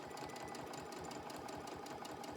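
A sewing machine stitches binding onto a quilt, its needle running in a fast, steady rhythmic chatter, close and fairly quiet, with no talk.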